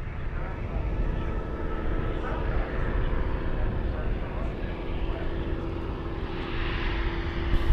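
A 1929 biplane flies past at a chapter fly-in, its propeller engine giving a steady, loud drone that holds throughout and swells slightly near the end.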